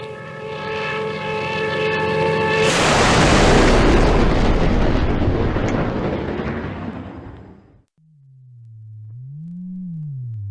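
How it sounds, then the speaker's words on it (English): A C-47 aircraft plummets with a steady harmonic engine drone that erupts into a huge roaring, crackling blast of fire, which fades away and is followed by a warbling synthetic tone. "The C-47 was plummeting straight down with a loud drone, lighting up the sky like an arrow ablaze with fire."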